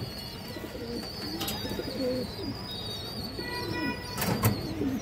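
Female pigeons, red-eyed Taki Makra birds, coo in repeated low throaty calls close by, with higher chirps and occasional clacks mixed in.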